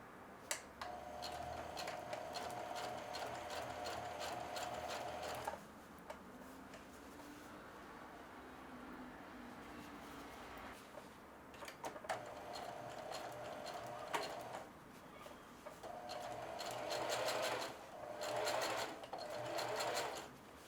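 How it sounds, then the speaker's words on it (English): A sewing machine stitching denim jeans runs in rapid, steady mechanical ticking bursts, pausing in between, close and clear with no talk. "I'm going to stitch a little closer to the edge, probably about 1/4 inch"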